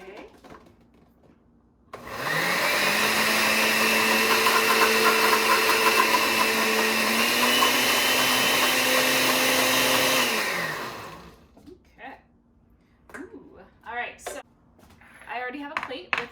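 A kitchen blender purées chocolate chip cookies in one loud, steady whir lasting about nine seconds, its pitch rising slightly partway through, then stops abruptly. Brief clatter and light sounds follow.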